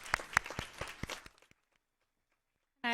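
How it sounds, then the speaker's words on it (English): Audience clapping at a school board meeting, a short burst of a few scattered, fairly close claps that fade out after about a second and a half, followed by silence. "Let's give them a round of applause."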